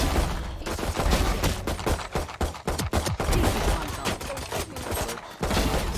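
Killjoy's turret fires in Valorant, rattling off rapid bursts of gunshots in quick, uneven clusters, loud and close, with brief pauses between volleys.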